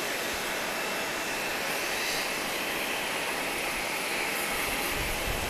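United airliner parked at Grand Cayman airport, its engine giving a steady broadband roar that holds level and fairly loud throughout, with no voices.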